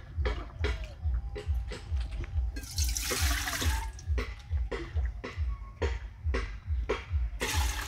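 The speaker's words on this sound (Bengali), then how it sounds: "জল দিতে হবে জল দিয়ে দিচ্ছি" Water is poured into a clay cooking pot for mutton fried rice, giving a close, continuous splashing with rhythmic glugging pulses and one brief, brighter surge of spray.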